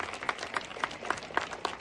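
Audience members at a BAPS Swaminarayan religious assembly clap in a steady rhythmic beat, about seven sharp claps in under two seconds, moderately loud over a soft room murmur.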